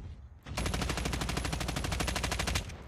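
Rapid sustained automatic gunfire from a mobile shooter game, fired at a monster in Call of Duty Mobile's Last Zone mode, a loud steady burst of evenly spaced shots lasting over two seconds.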